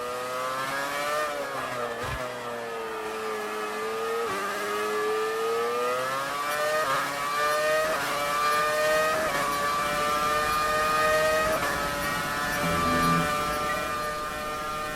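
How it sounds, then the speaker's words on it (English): A McLaren Formula 1 car engine in the F1 2019 video game, revving up through the gears to the rev limiter, a loud high-pitched whine rising repeatedly with brief dips at each gear change, no talk. "let's just listen to this McLaren for a few moments, because man, this thing just sounds so nice"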